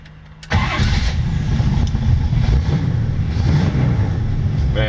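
A 1932 Ford Tudor two-door all-steel sedan hot rod cranks briefly and fires, its engine catching with a loud burst and settling into a heavy, rumbling idle close by, with no talking.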